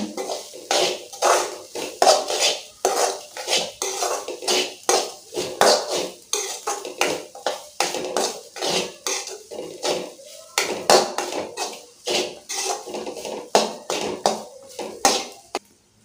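Grated coconut is dry-roasted in a pan for a mint chutney, with a spoon scraping and knocking against the metal in a quick, steady rhythm of close, clattering strokes throughout.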